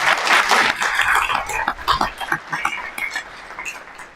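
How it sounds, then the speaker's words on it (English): Audience applause at a candidate forum for state offices, a dense patter of clapping that swells at the start and gradually thins out, with a few scattered claps trailing off. "Can you join me in giving them a round of applause?"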